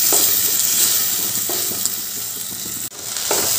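A paste of tomato, ginger and green chili fries loudly in a pan, a dense close sizzle with occasional stirring scrapes and a momentary break near the end, no talking.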